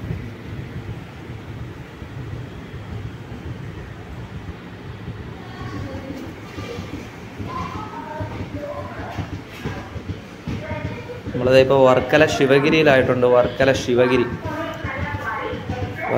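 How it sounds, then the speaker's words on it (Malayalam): Onboard a Madurai to Kollam sleeper class train passing Varkala Sivagiri station, a steady low rumble of the carriage runs under someone speaking, growing louder and rattlier in the final few seconds. "വർക്കല ശിവഗിരി റെയിൽവേ സ്റ്റേഷനൊക്കെ കഴിഞ്ഞ് പൊയ്ക്കൊണ്ടിരിക്കുകയാണ് ട്രെയിൻ."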